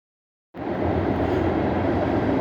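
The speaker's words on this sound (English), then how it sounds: "As you can hear, I was very close to the train tracks last night." After half a second of silence, a train on nearby tracks roars in and holds a steady, loud, broadband rumble with no talking.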